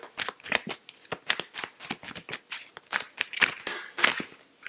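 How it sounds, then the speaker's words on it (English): Tarot cards are shuffled rapidly, a dense run of crisp flicking and riffling bursts in quick uneven rhythm, close and clear with no talking. "Giving these a shuffle until that first card falls or flips"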